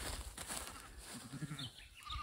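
Sheep on a small farm with cows nearby give a couple of short, faint bleats beneath steady wind and outdoor background noise.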